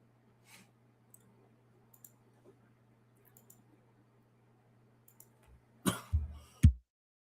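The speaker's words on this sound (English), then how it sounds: "I'm trying to keep my coughing to a minimum here." A man in a quiet room coughs a few times and clears his throat near the end, after soft scattered clicks over a low steady hum.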